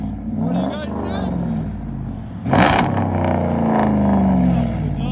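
A 2017 Ram 1500 Outdoorsman with a 5.7L HEMI V8 and straight-pipe dual exhaust with 5-inch tips, its deep loud rumble rising and falling through revs, with a sharp blip midway and someone talking over it.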